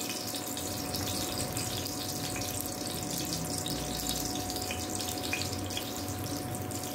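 Cumin seeds crackle in hot oil in a pan at the start of a tomato chutney, giving a steady close sizzle dotted with small pops and no talk.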